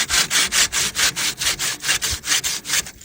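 Balled-up aluminum foil scrubs a grill grate on a Big Green Egg with rapid back-and-forth strokes, about ten rhythmic rasping passes that are close and loud, with no talking.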